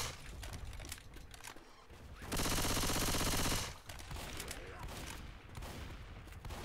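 Sustained burst of automatic gunfire mowing down common zombies in a co-op zombie shooter, a loud dense stretch of rapid shots in the middle with quieter scattered game noise and faint voices before and after.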